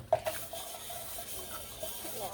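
Hot soapy water running and splashing in a kitchen sink while dishes are washed, a soft steady wash of water with small clinks and splashes, fairly quiet and close.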